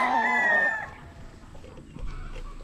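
A Johnny Jumper Kelso gamefowl stag, a young rooster, gives a loud, close crow or call in the first second, then it fades to low rustling and soft thumps with no talk.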